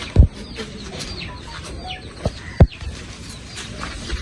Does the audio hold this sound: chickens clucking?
yes